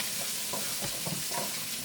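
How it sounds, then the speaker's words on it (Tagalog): Garlic and onion sizzle in a hot pan while being stirred, a constant loud frying hiss broken by occasional scraping stirs, close up with no talking. "Saute. Yan. Bawang at saka sibuyas yan, guys."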